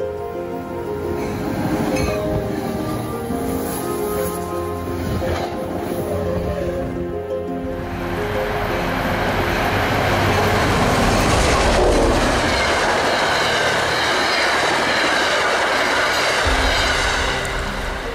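A 1967 GP40PH-2 locomotive hauling a passenger train rumbles past loudly, with a sustained horn blast at the start giving way to continuous rolling wheel noise.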